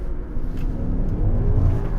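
A BMW M5 pulls hard in second gear, its engine a loud, close, continuous rising roar throughout, with no talking.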